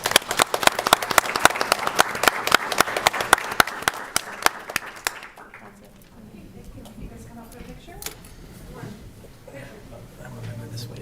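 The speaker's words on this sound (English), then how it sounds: "let's give our parents a round of applause" Audience applause for parents at a city planning commission meeting, brisk dense clapping for about five seconds that then dies away into quiet room noise and shuffling.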